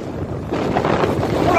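Wind gusts across a snowy ski slope at Erciyes Ski Center, a loud rushing roar that buffets the microphone and swells partway through.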